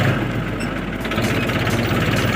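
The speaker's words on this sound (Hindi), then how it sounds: "हमारा ट्रैक्टर घूम रहा है।" A tractor engine runs steadily at close range, a continuous low mechanical drone with idling vibration as the tractor turns without its steering wheel being touched; no one speaks.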